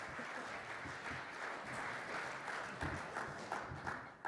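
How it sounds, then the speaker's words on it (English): A conference audience at a SMPTE 2018 session applauds a speaker, a sustained wash of clapping from many hands in a hall, even and fairly faint. "Let's give him a round of applause because he's a great man."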